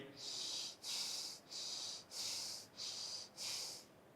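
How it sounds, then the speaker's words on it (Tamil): Breathing during a yoga mudra exercise, six breathy airy strokes in a steady even rhythm, close and soft with no talk. "மெதுவாக மூச்சை உள்ளெழுத்து, மெதுவாக மூச்சை வெளியிடுங்க"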